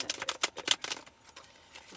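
Tarot cards being shuffled in quick, crisp bursts, several riffling flicks close up and alone, then trailing off into quiet.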